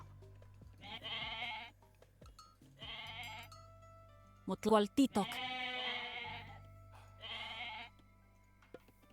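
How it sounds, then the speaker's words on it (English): Goats in the video game Age of Mythology: Retold bleat several times in short, clear calls spaced across the stretch, mixed with game voice lines. "There might be some goats we can get."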